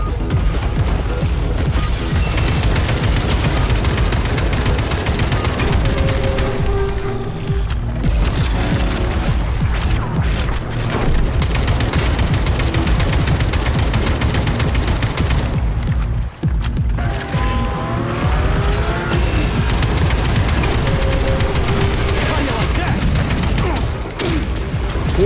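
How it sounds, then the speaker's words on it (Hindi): Gunfire from a gun in the video game Atomic Heart: loud, dense, near-continuous volleys mixed with heavy booms and mechanical clatter, running almost the whole time with only a couple of short lulls. "यू नो व्हाट, मैं ये गन से मार के ट्राई करता हूँ।"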